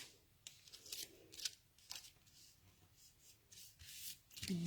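Scissors snip and trim fabric close by in short, uneven crisp cuts and rubbing strokes, fairly faint, with a low murmur at the very end.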